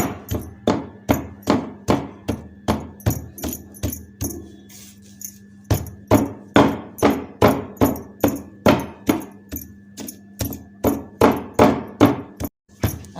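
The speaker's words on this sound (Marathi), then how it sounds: "आणि असं एकसारखं असं कुटून घेऊया." Spice masala for oily stuffed eggplant (tel vange) is pounded by hand in a steady, even rhythm: about thirty loud, sharp thuds, close up, with a short pause midway and no talking.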